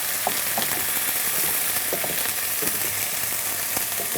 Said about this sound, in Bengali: মশলাটা একটু কষিয়ে নিচ্ছি যেন কাঁচা গন্ধটা চলে যায়।